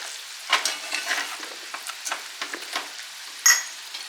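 Sticky sugar and jaggery dough with ghee and cardamom is stirred and pressed in a pan, giving soft, scattered scraping and squelching strokes, quiet and close, with one sharper clack near the end.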